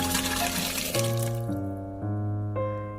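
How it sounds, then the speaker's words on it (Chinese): Boiled ingredients in water are poured into a rice cooker, starting with a splashing gush and turning into a rising, gurgling tone as the pot fills, close by. "烧开之后全部倒入电饭锅里"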